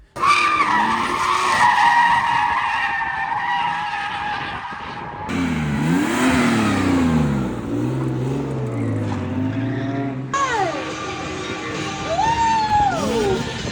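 A turbocharged BMW with an M50 engine skids and revs hard, with loud, sustained tire squeal and rising and falling engine notes across several bursts, heard close with no talking.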